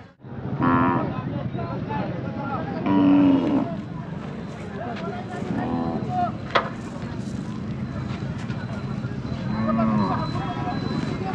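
At a Kharsundi bull market in 2025, bulls and cattle low repeatedly in several drawn-out moos amid wind and crowd noise, with people talking throughout.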